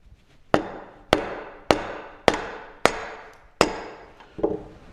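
A chisel set against a speed square is struck into wood with a hammer, giving six sharp, evenly spaced knocks about half a second apart, close and loud with no talking.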